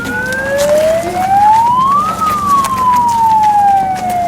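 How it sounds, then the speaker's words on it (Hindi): An ambulance siren wails loudly at a flood rescue mock drill, one long tone sweeping steadily up and then gliding back down over a constant background rumble of traffic and crowd. "और यहाँ पर अभी एम्बुलेंस भी आ चुकी है"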